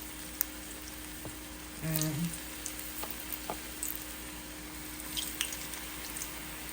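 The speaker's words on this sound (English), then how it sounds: "So I'm just going to place the Carimanolas in the oil." Carimanolas drop into hot oil in a mini fryer and begin a soft, continuous sizzle, with a brief bubbling burst as they go in and light crackles and drips after.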